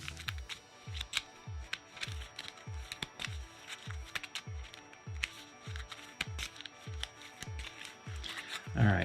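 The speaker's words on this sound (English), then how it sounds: "So I'm going to shuffle my discard pile here." Board game cards from a Mage Knight discard pile are shuffled by hand on a tabletop, giving a steady run of soft riffling flicks and taps, close and fairly quiet, with no talking.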